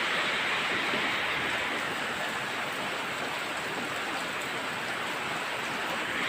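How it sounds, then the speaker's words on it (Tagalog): Heavy rain pours steadily, a dense, even hiss with no pauses, close and enveloping. "Ulan dito guys, ulan, no?"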